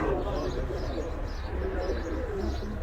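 A racing pigeon from a Punjab loft coos under a dense, steady background of other birds and noise, with a voice talking throughout.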